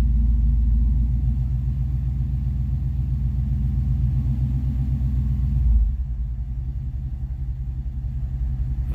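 A Chevy engine idles at about 800 RPM with a deep, steady, throbbing rumble close by. Near the end the idle drops to a lower, slightly quieter level.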